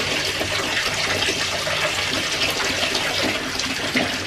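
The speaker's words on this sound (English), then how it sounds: "I'm gonna just wash my face with the Cerave cleanser" Steady running water from a tap while a face is washed with CeraVe cleanser, a continuous close splashing gush with no talking.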